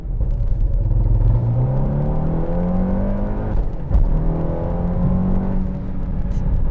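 A tuned 2019 VW Golf R with a BDT Stage 2 tune and rolling anti-lag revs hard, its loud close engine note rising and falling in pitch with a brief crackling pop midway, and no voices over it.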